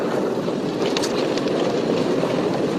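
A train rolls past with a steady, moderately loud rumble and rushing noise that holds evenly from start to finish, with no voices.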